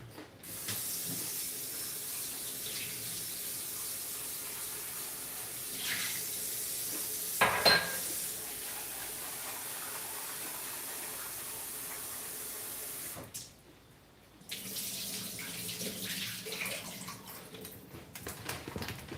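Tap water runs steadily into a sink as rice is washed beneath it, a close, continuous splashing flow with a brief clatter partway through and a short pause before the water resumes.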